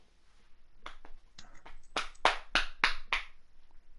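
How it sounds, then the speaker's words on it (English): A short run of hand claps, about eight sharp slaps, a few loose ones first and then a steadier burst, close by with no talking. "I'm clapping."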